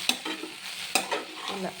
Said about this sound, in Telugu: ఒకసారి మొత్తం ఇలా బాగా కలిపేసేయాలి.